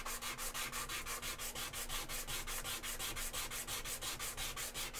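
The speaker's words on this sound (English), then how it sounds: "I might as well just use sandpaper" Polycarbonate being sanded by hand with sandpaper, a steady rhythmic back-and-forth rasp of about four strokes per second, close and continuous throughout, with no talking.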